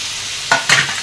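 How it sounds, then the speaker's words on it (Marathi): Garlic and onion fry in a pan, with two short, loud bursts of sizzling or stirring in quick succession close by. "त्याच्यात लसूण, आणि कांदा हे चांगलं लाल सखत होऊ द्यायचं"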